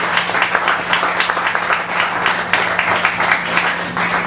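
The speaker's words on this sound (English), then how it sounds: "please give her a big round of applause" Applause for a poet at the close of a live poetry reading, continuous dense clapping from an audience holding at an even level over a low steady hum.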